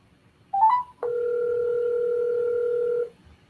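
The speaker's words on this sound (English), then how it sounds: "I'm going to let her phone ring." A phone line on an outgoing call: a brief rising chirp of dial tones, then a steady two-toned ringback tone held for about two seconds before cutting off, clear and alone.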